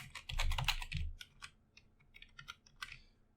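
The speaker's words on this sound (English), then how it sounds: "So let us just type here Adam," Rapid keystrokes on a computer keyboard entering text into Python code, a dense burst of clicks at first, then sparser, irregular taps close to the mic with no talking.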